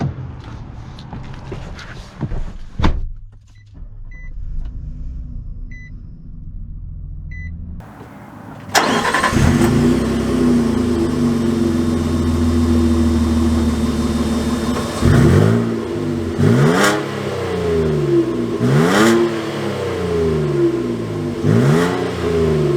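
2022 Nissan Frontier Pro-4X pickup truck starting up and pulling away, with the engine catching after a quiet pause, then idling and revving through several rising acceleration surges heard from inside the cab.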